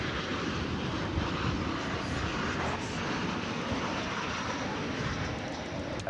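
American Airlines flight 2326 from Des Moines arrives at DFW Airport, its jet engines a continuous even roar at moderate distance, with no talking over it.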